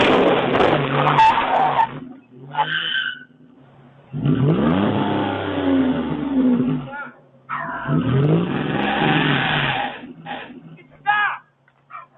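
A car engine revs hard again and again in loud roaring bursts separated by short gaps, fairly close, in a residential neighborhood, with a voice talking between the revs.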